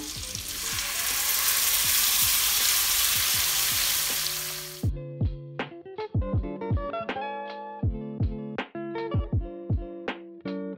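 A loud, steady sizzle of ground spice paste frying in hot oil with onions for spicy crab sauce, which cuts off midway and gives way to a series of clinking, tonal knocks.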